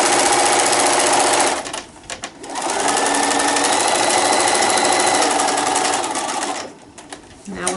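A sewing machine stitches a pleat into the seam of a fabric wine gift bag, its steady loud mechanical whir running almost continuously with two brief pauses.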